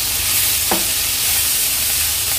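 Chicken cocktail chilli fry sizzling in a pan while chopped coriander is stirred in, a steady close frying hiss with a single scrape of the spoon partway through.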